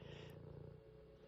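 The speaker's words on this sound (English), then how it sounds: "With the Divine Mother purring right behind me," A cat purring close by in a quiet room, a soft steady rumbling purr with a brief higher rustle near the start, no voices.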